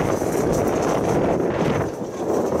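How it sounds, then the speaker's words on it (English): Wind blowing outdoors on a very windy day, a steady close rush and buffeting against the microphone for a few seconds, with no talk. "It's very windy today."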